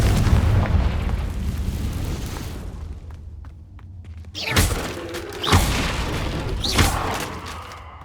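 The Confringo fire spell explodes in the Hogwarts Legacy video game. A heavy rumbling blast fades out, then several sharp booming bursts follow close together with thuds and crackling debris.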